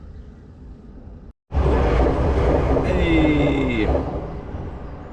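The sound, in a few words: small train passing at level crossing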